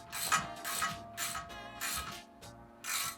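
Socket ratchet tightening a 9/16 fastener snug, several short bursts of rapid pawl clicking separated by brief pauses, close and clear with no talk.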